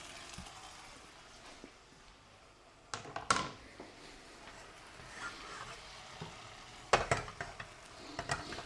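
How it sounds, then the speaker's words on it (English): Peppers mashed and stirred in a pan on a kitchen hob, with soft scraping, faint sizzling and a few sharp clatters of a utensil against the pan, close and alone. "over to the hob with our peppers. And we can just mash these in here, any order you wish."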